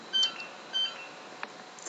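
A phone gives two short electronic beeps about half a second apart, clear and close, followed by faint quiet room tone.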